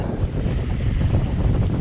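A sailboat under way on open water toward the Florida Keys, with steady wind roaring across the microphone and a broad rush of water against the hull, loud and continuous.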